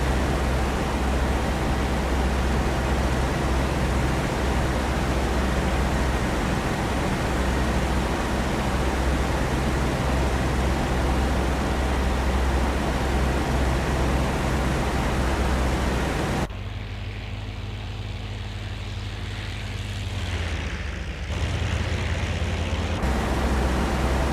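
P-40E-1 fighter aircraft in level flight in IL-2, with a steady, loud broadband engine and wind drone that cuts abruptly to a quieter, muffled hum near the end, then briefly returns.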